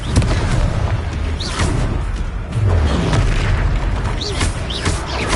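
Confringo blasting spells explode in the Hogwarts Legacy game, loud deep booms and fiery bursts layered over a constant rumble of combat, with a voice speaking amid the blasts.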